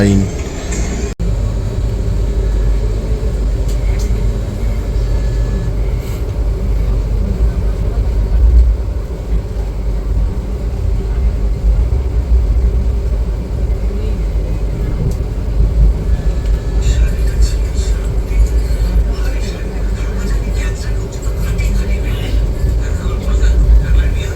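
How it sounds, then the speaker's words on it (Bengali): An ICF-coach Black Diamond Express hauled by a WAG9 electric locomotive runs at speed between Dhanbad and Howrah, giving a loud, steady rumble and rattle that continues unbroken throughout. "ট্রেন কিন্তু আমাদের ভালো স্পিডেই যাচ্ছে, WAG9"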